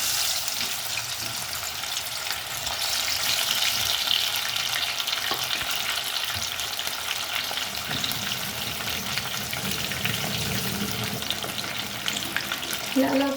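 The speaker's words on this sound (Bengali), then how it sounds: "লাল লাল করে ভেজে নেবো মাছগুলো। মাছগুলো ঢেকে ঢেকে ভাজবো।" Boal fish pieces rubbed with salt, turmeric and a little flour fry in hot oil in a kadai, a steady close-up sizzle with crackling bursts that swells in the middle and continues without talk.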